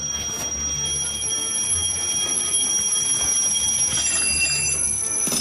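Alarm clock ringing steadily in a room: a continuous high electronic tone held throughout, fairly quiet under a background of low hiss and rumble, with no one talking.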